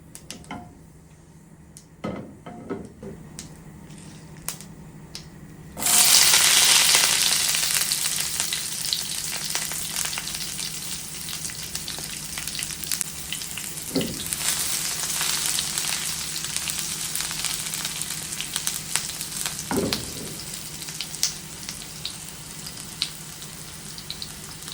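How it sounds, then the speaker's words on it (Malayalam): Mustard seeds, curry leaves, dried red chillies and shallots frying in hot coconut oil for a Kerala erissery; quiet popping and clinks first, then a loud sudden sizzle that stays dense, with occasional pan knocks. "കടുകെല്ലാം പൊട്ടിക്കഴിയുമ്പോഴേക്കും കറിവേപ്പിലയും വറ്റൽമുളകും ചുമന്നുള്ളി ഇട്ട് കൊടുക്കാം"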